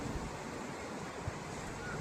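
Ocean surf washing onto a beach in America, a steady broad wash of waves mixed with wind noise on the microphone, with no talking.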